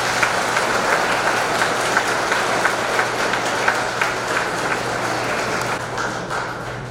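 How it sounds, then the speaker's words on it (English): Student audience at a Guelph political party debate applauding the candidates, a steady dense clapping that holds at even loudness for the full stretch over a low background hum, no voices standing out. "Students, let's give them a warm round of applause."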